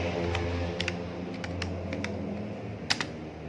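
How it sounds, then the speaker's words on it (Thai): Steady, close typing on a computer keyboard, with a run of light key clicks and one sharper tap near the end over a low background hum. "มันก็จะขึ้นคำสั่งนะแล้วให้เราพิมพ์คำว่า fast boot"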